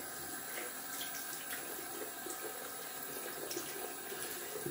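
A tap runs steadily during a wet shave, giving a faint, continuous hiss of flowing water with a few small splashes and no talking.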